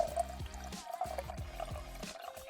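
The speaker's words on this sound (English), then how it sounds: "And then a whole lot of white vinegar." White vinegar is poured into a pot of garlic and salt, a light continuous liquid stream that trickles close by with a soft kitchen hum underneath.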